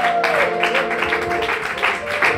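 Church congregation applauding and cheering in acclamation during a prophetic prayer service, a dense burst of clapping mixed with voices and shouts, loud and close under a sustained musical tone.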